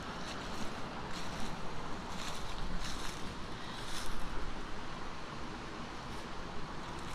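Steady broadband rush of flowing water fills the space at the Devils Hole ruins, continuous and fairly loud throughout with a faint hiss of wind and no voices.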